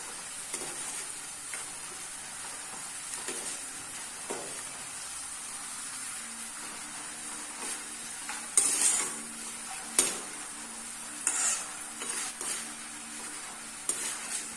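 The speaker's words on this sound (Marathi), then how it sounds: "छानपैकी गुलाबी रंग येईपर्यंत वेफर्स असे छानपैकी तळून घ्यायचे" Homemade cardamom banana chips made from country bananas frying in hot oil, giving a steady close sizzle with occasional stirring clinks and bubbling bursts.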